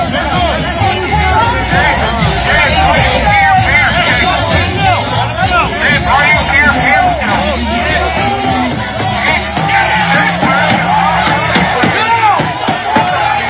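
Loud, dense crowd hubbub at a protest, with shouting and whooping mixed into steady babble throughout, filling the whole stretch without letup.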